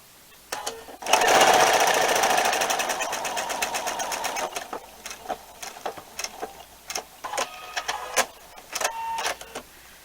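A sewing machine stitches quilt binding, running steadily and close for a few seconds before breaking into short, stop-start bursts of rapid needle ticking.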